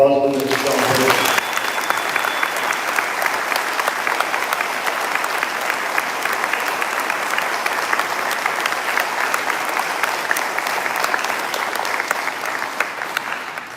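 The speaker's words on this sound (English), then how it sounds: "a round of applause for Mr. Johnson" An audience at an outdoor middle school eighth grade promotion ceremony breaks into loud, sustained applause, many hands clapping steadily for over ten seconds after a brief voice at the start.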